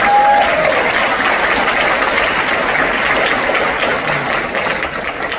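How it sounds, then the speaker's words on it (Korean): Audience at a football club owner's talk concert breaking into applause, a loud, continuous wash of many hands clapping that holds steady and eases slightly toward the end, with no speech above it. "여러분 박수 보내주십시오."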